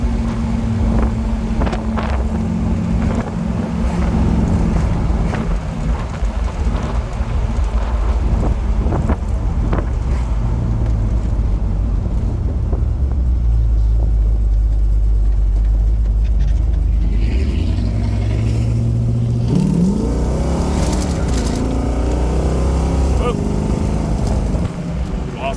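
A 1980 custom Pontiac Trans Am roadster drives with its engine droning steadily and loud wind rushing across the open cockpit, the pitch rising and falling as it moves through the gears.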